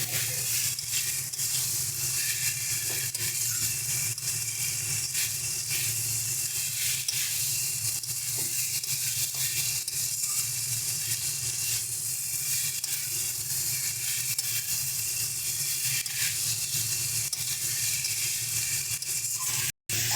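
Pieces of katla fish and fried brinjal fry in masala in a pan, giving a steady, loud, close sizzling hiss that runs unbroken and without voices until a brief cut near the end.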